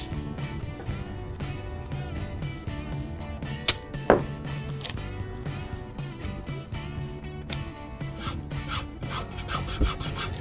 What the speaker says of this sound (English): let's get this plate drilled